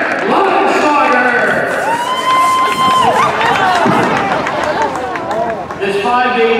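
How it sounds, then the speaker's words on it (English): Crowd at Nodak Speedway cheering and clapping for the winner of an IMCA Sport Mod dirt-track feature, a continuous loud roar heard under an amplified announcer speaking. "One more round of applause for your IMC Sport One feature winner and tour runner-up"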